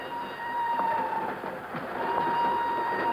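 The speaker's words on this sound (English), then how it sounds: "she's aboard a northbound train rolling out of Lisbon" A northbound train rolls out of Lisbon in a radio drama effect, a steady rumbling clatter along the tracks with a faint whistle-like tone, continuous and fairly close.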